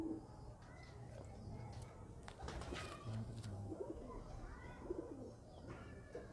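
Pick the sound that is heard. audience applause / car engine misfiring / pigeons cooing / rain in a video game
pigeons cooing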